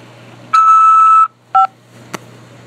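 Three telephone keypad tones on a corrections facility collect call: a long beep, a short beep, then a brief click-like blip, clear and close over a faint low hum.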